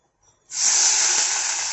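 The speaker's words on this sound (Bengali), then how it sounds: "এখন আমি ওই তেলের মধ্যেই আমি এখন পেঁয়াজ যেটা গ্রেট করে রেখেছি ওইটা আমি এখন দিয়ে দেবো" Grated onion dropped into hot oil sets off a sudden loud, steady sizzle that holds strong and even after a quiet start, close by with no talking.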